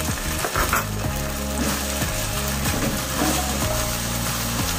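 Liquid is poured into a pan of sizzling spicy pork liver cooked with garlic and onion, producing a steady, dense hiss that runs without pause beneath loud background music.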